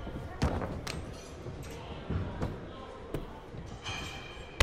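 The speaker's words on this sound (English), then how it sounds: "Exploder suplex from Orton." A Randy Orton exploder suplex slam in the WWE 2K24 video game lands as a few heavy thuds and thumps over steady crowd-like background noise, with voices present.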